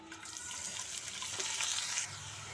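Chopped onions, green chillies and curry leaves sizzle in hot oil with a bright, hissing crackle. The sizzle swells for about two seconds, then settles to a softer background fizz, with no talking.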